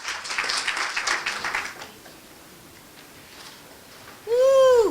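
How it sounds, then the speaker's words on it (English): Audience applause at a building dedication ceremony: a brief burst of clapping that fades after a couple of seconds into quiet room tone, followed by a loud, rising whoop from one voice. "Please clap your hands for Ms."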